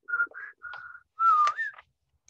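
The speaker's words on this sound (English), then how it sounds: "closed the door and whistled on her way to bed" Someone whistles a short tune alone, a few clear sustained notes separated by brief pauses, ending with a longer note that bends upward, close and fairly quiet.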